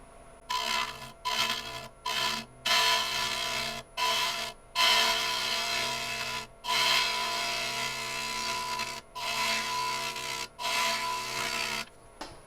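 A Lucas GL6 bottom feeder gouge cutting pecan wood on a lathe: repeated light passes producing bursts of scraping, hissing shavings, each one to two seconds long, separated by short pauses, close and fairly loud with no talking.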